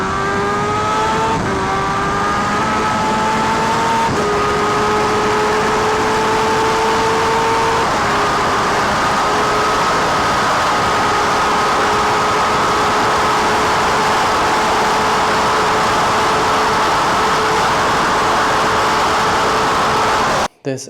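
A high-revving superbike engine screams steadily, stepping up through gears before holding a sustained loud whine, cutting off abruptly at the end.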